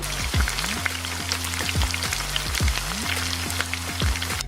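Chicken sizzles and crackles steadily in a pan of Cajun sauce, a close, continuous frying hiss with scattered pops, beneath a repeating low mechanical hum.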